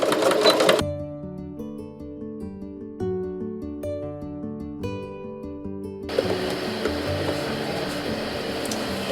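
A sewing machine stitches quilt block seams in quick mechanical bursts, running loud and close, stopping briefly, then starting again with rapid rhythmic clatter.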